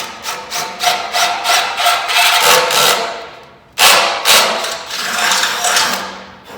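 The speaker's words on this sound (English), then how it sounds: "I'm just going to show you the holes and how I drill them out." A 1/2-inch drill bit bores out a hole that is nearly its own size, a close, rhythmic grinding chatter in quick pulses, pausing briefly midway before a second burst of drilling.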